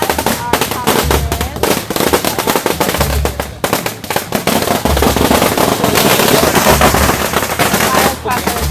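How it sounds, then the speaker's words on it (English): Strings of firecrackers pop in rapid, dense crackling bursts at a Chinese Spring Festival Parade of the Gods, loud and close, with brief gaps between volleys and crowd noise underneath. "Firecrackers are just going on."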